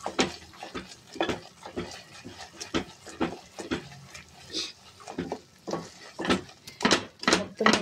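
Ghee stirred into a jaggery Mysore pak mixture in a pan, with repeated scraping strokes and soft sizzling bubbles in an uneven rhythm, close up with no talking.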